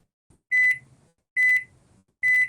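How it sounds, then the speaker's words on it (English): Microwave oven beeping three times, evenly spaced, each a loud sustained electronic tone with a faint clunk between, set in the background of a video call. "I hear a microwave beeping in the background, though."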